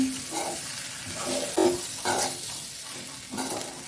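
Egg aviyal curry with curry leaves gets mixed in a pan, giving soft, intermittent scraping and stirring strokes over a faint sizzle, fairly quiet and close, with no voices.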